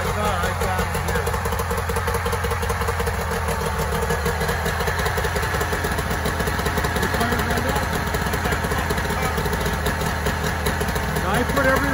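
A 1994 Mariner 30 hp outboard motor runs steadily at idle after a carburetor clean, a continuous loud mechanical drone with a slight knock that persists throughout.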